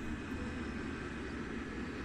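An airplane flying in the video game GTA 5 gives a faint, steady engine drone with a constant hiss and no distinct changes, heard alone without talk.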